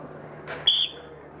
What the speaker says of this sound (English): I blew that whistle